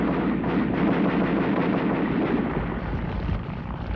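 Anti-aircraft ground fire from the First World War era rolls as a loud, continuous rumbling barrage of booms and blasts, dense and unbroken for several seconds before easing slightly.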